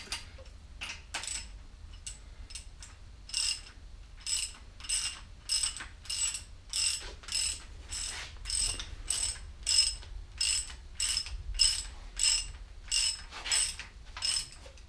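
Hand ratchet tightening exhaust bolts on a big block 396 V8, a run of quick, close clicking bursts repeated in a steady rhythm with short pauses between strokes.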